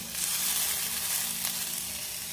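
Greengram sprouts chaat ingredients frying in a pan, a steady bright hiss of sizzling oil that holds evenly throughout, close and moderately loud with faint stirring.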